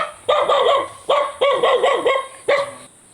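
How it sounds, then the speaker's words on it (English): A dog barks repeatedly near a jungle road in Bali, about six sharp loud barks in quick uneven bursts with short pauses between them and no voices. "Oh, there's a dog."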